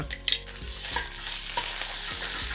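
Ginger garlic paste stirred in a hot pan for home-style chicken mandi gives a steady close sizzle, with a few sharp scrapes and clinks of the spoon against the pan near the start.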